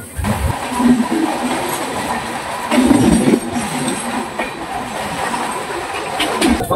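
Tamralipta Express train rolling along the Howrah-Digha line, a steady loud rumble of wheels and carriages with faint rhythmic clatter throughout, heard from inside the coach.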